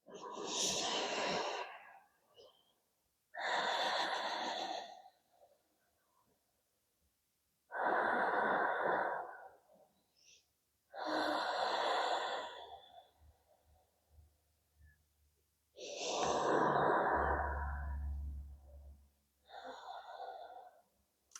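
Slow, deep breaths taken during a seated wrist stretch, several long airy inhales and exhales spaced evenly with silent pauses between them, close and clear with no talking.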